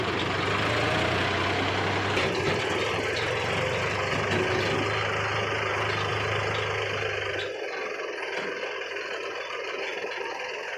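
Heavy diesel engines of tractors and a JCB excavator rumble steadily and loudly, a deep low idle throbbing throughout until the lowest drone drops away near the end, leaving a lighter engine hum.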